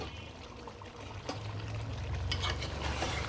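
Potatoes and radish stir-fried in a pan, a soft hiss of cooking with occasional scraping of a spoon, fairly quiet and continuous.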